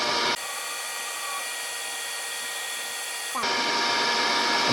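Steady, loud electric whir of a heat gun blowing hot air at close range, warming the glue behind a Can-Am Ryker hood emblem, with the motor pitch shifting briefly near the end.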